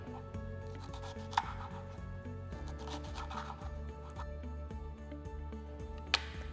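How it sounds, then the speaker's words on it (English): A kitchen knife cuts vegetables into julienne strips on a board, a quick steady run of close chopping taps over a faint tonal hum, with two sharper louder knocks. "So we have a julienne, which is just cutting into strips."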